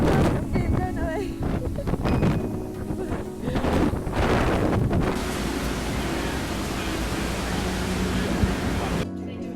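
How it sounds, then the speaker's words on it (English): Strong wind buffets outdoors, roaring against the microphone in loud gusts with a steady rushing wash that settles toward the end, while a voice talks briefly early on. "It's so windy."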